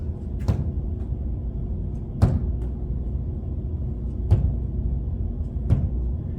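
Four dull thuds from a foam mini basketball bouncing on a hard floor at irregular intervals, over a low steady room hum.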